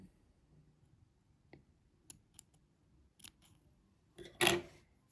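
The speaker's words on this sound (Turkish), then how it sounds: "Şimdi bu renkteki ipimi buradan kesiyorum." Scissors snip embroidery thread during needle lace work. Faint scattered clicks lead up to one crisp, close cut, with quiet surroundings.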